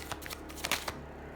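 A few quick riffles and snaps of tarot cards being shuffled by hand, soft and close in a quiet room, lasting about a second.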